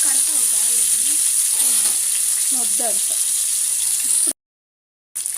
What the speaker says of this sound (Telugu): నెత్తళ్ళు అయితే ఫస్ట్ వేపేసుకుందాం అన్నీ